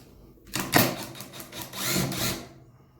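A hidden screw is worked out of a HiKOKI C3606DA cordless circular saw during disassembly, giving two short bursts of close, gritty scraping and whirring with a quieter gap between them.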